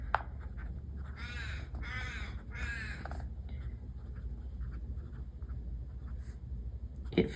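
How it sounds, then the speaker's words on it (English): A noisy magpie calls outside in three harsh, rattling bursts early on, loud and fairly close over a steady low room hum, followed by quieter ambience and a brief knock near the end. "there's a noisy magpie outside."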